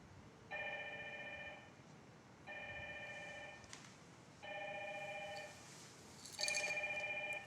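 An IP phone connected to a Dinstar IP PBX rings for an incoming call: four evenly spaced two-tone ring bursts, soft and clean, with nothing else over them.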